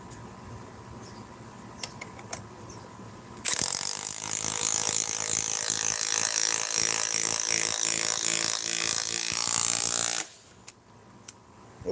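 A DeWalt power tool whirs loudly for about seven seconds, a harsh, high, ratcheting mechanical drone that starts and stops abruptly, with a few faint clicks and knocks before and after it.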